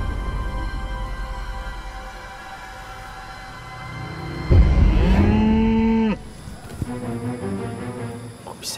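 A cow standing in the middle of a road gives one long, loud moo near the middle, followed by a shorter, softer second call, with low rumbling background noise throughout.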